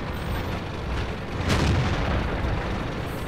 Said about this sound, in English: There's that TD firing over my shoulder again.